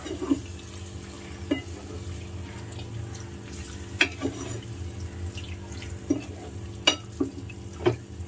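Marinated chicken is stirred into masala in a pan, with a soft sizzle underneath and scattered scraping, clinking knocks of the spoon at irregular intervals.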